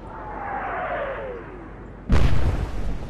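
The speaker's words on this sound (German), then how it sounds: "Schwere Explosion auf der Ajax." A sudden heavy blast as shells hit the cruiser Ajax in an Atlantic Fleet naval battle game, preceded by a falling whistle of incoming rounds and followed by a loud rumbling boom.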